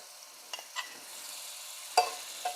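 Butter sizzles softly in a hot pan with a few brief clinks and scrapes, quiet and close, no talking.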